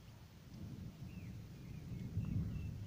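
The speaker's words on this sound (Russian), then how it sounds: "Гром гремит." Thunder from a storm rumbles low and continuous, slowly swelling louder toward the end, with a faint hiss of rain in the background and no voices.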